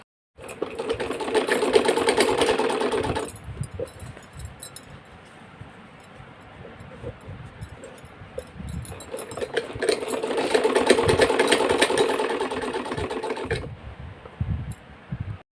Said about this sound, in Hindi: जहाँ पर ये मैंने कट लगाया है यहाँ से दूसरे कट तक सिलाई लगानी है।